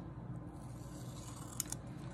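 Scissors snip through a paper bag during a craft build, a soft continuous rustling cut with two brief sharper clicks near the end, close and quiet with no talking.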